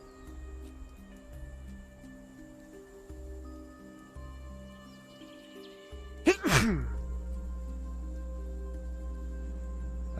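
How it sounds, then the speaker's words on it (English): A single loud, close sneeze bursts out partway through, sudden and sharp, over a steady background hum and faint electronic tones. "I sneezed."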